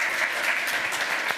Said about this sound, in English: Give him a round of applause for the effort.